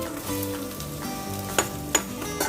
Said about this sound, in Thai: เราจะผัดกระเทียมให้หอมแล้วเดี๋ยวเราจะใส่เป็นบวบลงไปเลยนะคะ